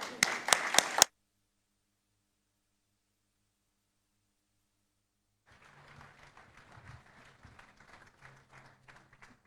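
A graduation audience gives a short burst of loud clapping, then silence, then softer, scattered applause returns farther off under a faint low hum.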